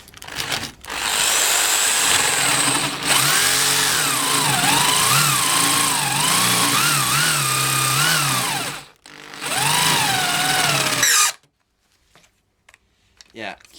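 A Black and Decker KR705K hammer drill bores with a 25 millimeter spade bit that has no screw tip. The motor whines loudly and steadily, its pitch wavering under load, through a long run, a brief pause and a shorter burst before stopping.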